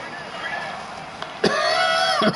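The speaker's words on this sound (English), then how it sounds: "My sinuses are draining, making me cough." A man with draining sinuses talks quietly while commentating an NFL game, then gives a short cough or throat clear, followed by another brief one near the end.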